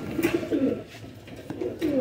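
Domestic pigeons, including a Sialkoti flying breed, coo in low rolling phrases nearby, a few overlapping calls repeating over a couple of seconds.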